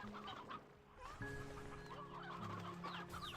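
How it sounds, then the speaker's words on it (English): Chickens cluck steadily in the video game Slime Rancher 2, several birds overlapping in a busy, close chorus of short clucks with no talking. "That was a lot more chickens, though, than I was expecting."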